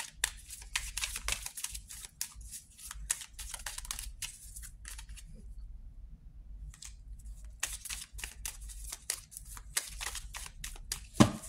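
Tarot cards being shuffled and drawn: a steady papery riffling and flicking runs on and off, with a brief quiet stretch in the middle, close and fairly soft.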